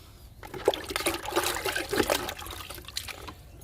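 Liquid fertilizer trickles and splashes from a container onto the soil around a large potted flowering plant, an uneven close pour lasting a few seconds with no talking.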